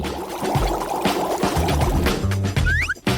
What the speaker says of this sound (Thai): แล้วเทน้ำเดือดลงไปได้